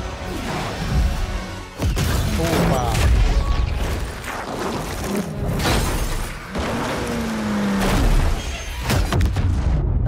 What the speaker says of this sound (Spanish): Eso sí es una explosión.